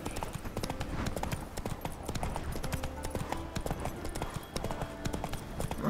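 A horse gallops steadily through Skellige in The Witcher 3 video game, with rhythmic hoofbeats that continue without a break under game music, and someone talks quietly over them.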